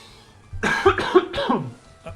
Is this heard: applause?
no